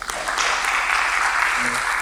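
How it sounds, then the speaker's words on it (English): Brief burst of audience applause at a talk, dense steady clapping from a crowd, close and fairly loud. "Let's give them another hand clap."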